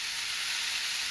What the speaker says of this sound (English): Mushrooms are getting tossed in.